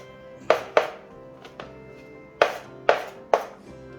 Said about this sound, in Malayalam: വെളുത്തുള്ളി നമുക്ക് ചതച്ചെടുക്കാം.